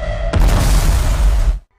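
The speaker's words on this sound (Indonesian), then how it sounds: "Anand dan semua sandera menjadi korban ledakan yang dipasang Godse" A loud, deep boom of a planted bomb in a film bursts out after a low rumble, a heavy blast that roars for over a second and then cuts off.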